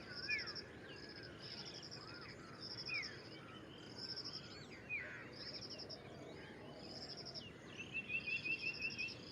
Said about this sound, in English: Still the common iora.